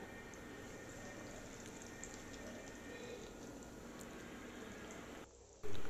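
An egg and bread crumb snack frying in oil, a faint, steady bubbling hiss with soft crackles that runs evenly for most of the time and then cuts off near the end.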